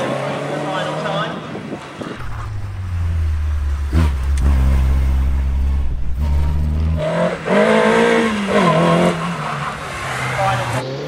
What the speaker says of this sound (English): he took his 1974 Morgan 4-4 around the course to secure second place in class